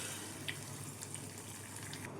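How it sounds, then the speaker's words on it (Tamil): Water pours and splashes steadily into a mixer jar, a continuous rushing trickle heard close up with no talking. "இப்போது மிக்ஸி ஜார் கழுவி தண்ணி சேர்த்துக்கலாம்."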